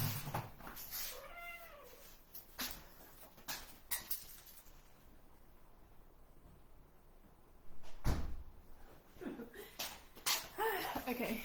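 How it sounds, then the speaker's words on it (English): A cat meows a couple of times in a quiet room, mixed with door or cupboard knocks and sharp slaps, with a person speaking softly at times. "So, that was the cat."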